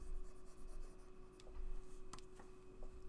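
During a math lesson, someone writes on a board in quiet, continuous scratchy strokes with a few sharper taps, over a steady low hum and no talk.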